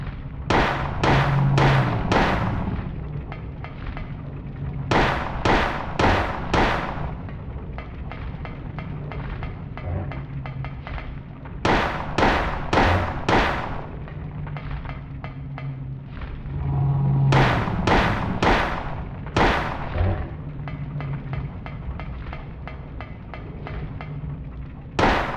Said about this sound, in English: You gotta shoot him a bunch of times, so don't waste your shotgun bullets just yet.